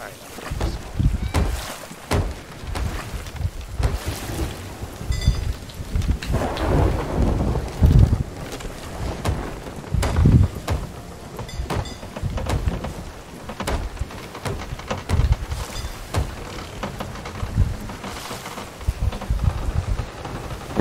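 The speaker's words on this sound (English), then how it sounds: "Yeah, we're in the storm. The maelstrom." A fierce storm at sea in the pirate video game Sea of Thieves, with heavy rain, repeated deep thunder rumbles and a creaking wooden ship riding rough water, heard over ongoing player chatter.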